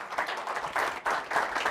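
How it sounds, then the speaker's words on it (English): Audience applause at a dairy industry presentation, a brief, moderately loud patter of clapping hands from a seated crowd. "Give Jan a round of applause"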